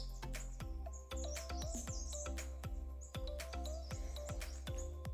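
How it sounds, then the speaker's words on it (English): Birds chirp outside at a plant nursery among blooming cineraria, a busy chorus of repeated high tweets and calls over a low steady hum, no talk. "You can see the number of birds out there."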